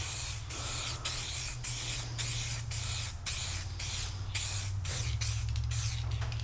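A spray gun lays down paint coats on a 1994 Ford Mustang Fox Body with a 351W. Close, steady hissing passes repeat in short bursts over a low mechanical hum.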